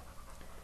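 A two-year-old energetic rescue dog pants in quick, close breaths, a brief steady huffing rhythm at low volume with no talk.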